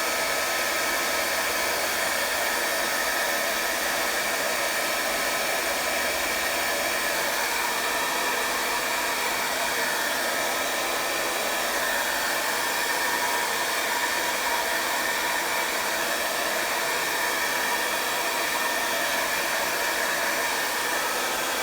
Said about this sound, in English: you can use your hair dryer to dry things quickly